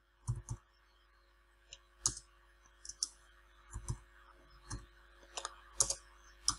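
Computer keyboard keys clicking as code is typed, a sparse, irregular run of short, crisp taps and brief bursts, close and fairly quiet with no talk over them.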